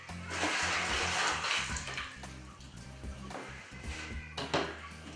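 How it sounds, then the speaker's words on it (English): Water from a baby axolotl's dish is poured out in a splashing, gurgling stream that runs for about five seconds, close and fairly steady, with a few brief clunks. "I'm just going to dump this water here."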